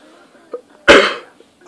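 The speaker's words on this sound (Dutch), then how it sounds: "een beetje hoesten" A single sharp cough bursts out close to the listener, loud and brief, amid soft breathing and faint vocal sounds.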